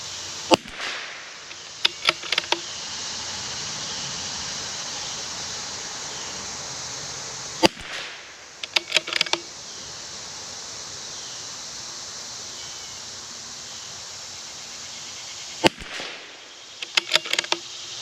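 CZ 457 rimfire rifle firing, sharp isolated cracks that come singly and in quick clusters, spaced apart over a steady outdoor hiss.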